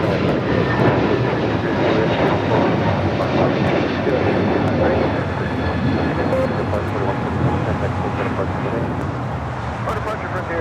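A Delta heavy Boeing jet lands on runway 25 left at LAX with a loud, broad engine roar that holds steady throughout, while voices talk over it.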